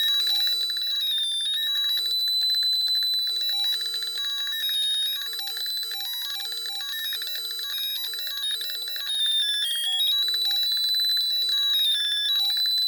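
A light theremin simulator emits a steady, loud electronic tone that wavers and slides in pitch, bright and continuous throughout with no talking.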